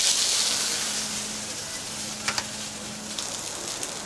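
Radishes sizzle steadily in a hot pan, a continuous close frying hiss with a couple of brief stir or clatter accents partway through, no talking.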